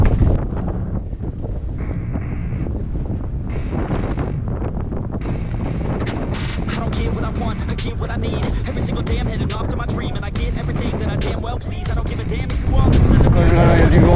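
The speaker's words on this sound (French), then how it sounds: "Voilà, il y a du vent." Strong wind roars steadily across the microphone during a summer mountain bike ride on an Orbea Oiz H30, a loud continuous buffeting rumble with harsh gusts that swell near the end.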